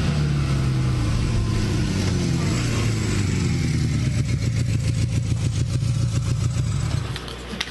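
A motorcycle engine runs steadily and close by, with a throaty rumble and a few revs before it cuts to a quieter idle near the end.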